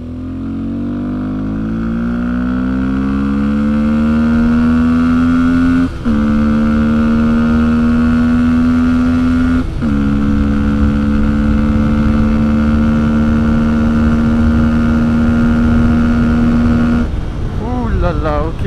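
Fantic 125 motorcycle engine revving hard on a ride, a loud, steady rising drone that holds high through gear shifts, with a brief drop near the end.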